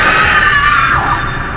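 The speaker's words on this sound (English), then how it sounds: "A victim waiting to scream." A victim's loud, sustained high-pitched scream from a horror movie spoof trailer, close and filling the moment with no other voices.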